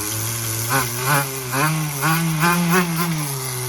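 Rebuilt nitro engine in a Tamiya TGS-R RC car running steadily close by, a buzzy mid-pitched drone with small rhythmic rises and dips in pitch, heard alone.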